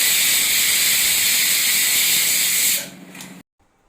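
A pressure cooker holding tomato rice vents steam in a loud, sustained high hiss that cuts off abruptly after about three seconds, leaving a brief fading sputter and then silence.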